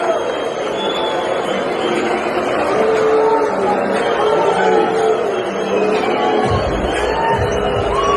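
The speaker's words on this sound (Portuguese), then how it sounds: "Lula foi recebido com vaias em eventos de prefeitos em Brasília" A crowd boos Lula at a mayors' event in Brasília, producing a dense, loud, continuous roar of voices that holds steady for the whole stretch.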